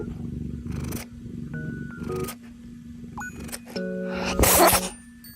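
A cat gives one sharp, breathy sneeze near the end, preceded by faint snuffling and quiet background sounds.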